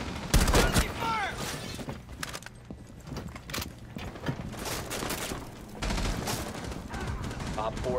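Gunfire rattles through a round of Rainbow Six Siege on the Velvet Shell map, with dense repeated bursts and single shots mixed with in-game effects. Radio-style voice lines sound over the shooting at times.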